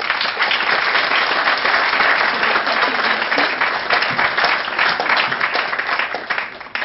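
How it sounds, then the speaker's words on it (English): Long, loud applause from a packed audience at a public procurement forum, dense and steady clapping sustained for about seven seconds before starting to thin at the very end. "Shall we give a very, very long and loud applause?"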